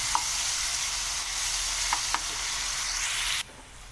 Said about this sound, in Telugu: ఆనియన్స్ ఫ్రై అయినాక కొద్దిగా పసుపు వేసి కలపాలి